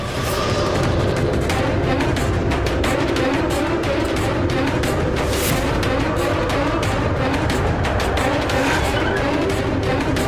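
A car drives along with a loud, continuous roar of engine and road noise, steady and close throughout with rattling bursts mixed in.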